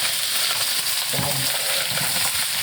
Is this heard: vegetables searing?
yes